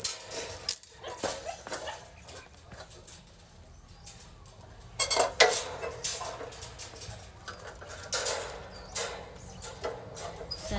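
Brownie, a stray dog, eats a treat from a dish, giving bursts of close licking, chewing and lapping that come and go in short clusters, separated by quieter gaps.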